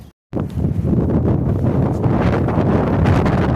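Loud, blustery wind buffeting the microphone in Killeen, Texas, a continuous roaring rumble after a brief silent moment at the start.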